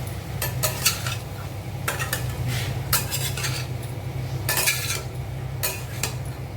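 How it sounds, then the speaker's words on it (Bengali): Soybeans mixed with turmeric and salt are stirred in a pan with a metal utensil, giving repeated scraping clinks in irregular bursts over a soft, steady sizzle, with no voices. "ভালো করে হলুদ লবণ সয়াবিনের সাথে মিশিয়ে নিচ্ছি"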